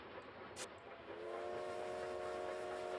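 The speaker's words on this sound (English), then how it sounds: "You can just pull the whistle." Steam train whistle pulled in the video game Bounty Train: a brief hiss, then a loud sustained multi-tone whistle that holds steady for the rest of the clip, with no talking.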